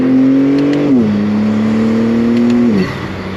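A BMW M3 engine drones close by with the windows down, its pitch stepping down twice as it changes gear during a late-night drive, steady and loud throughout.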